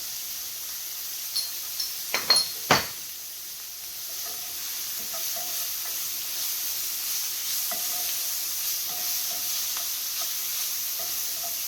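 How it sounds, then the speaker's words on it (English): Onions cook in a pan for a farro dish, giving a steady soft sizzle, with a few sharp clinks of a utensil early on. "now you want the onions, I want them to cook a little bit"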